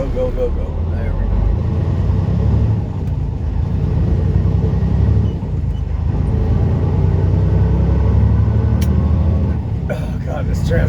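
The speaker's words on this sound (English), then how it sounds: "this transmission is just rough" A vehicle with a rough transmission drives on the road, giving a steady loud engine rumble and drivetrain drone that continues throughout, with faint voices now and then.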